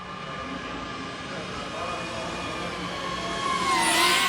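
A DJI Avata 2 FPV drone races around inside a large indoor arena, its steady high-pitched whine of propellers and motors swelling louder near the end as it passes close, with reverberant room tone and no talking.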